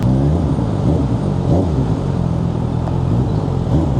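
Motorcycle engines fitted with silencers rumble in rush-hour traffic alongside a Honda CB1000 Hornet, a steady loud low drone with mild revving and no talk.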